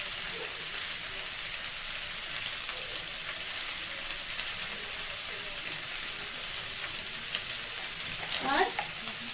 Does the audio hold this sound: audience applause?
no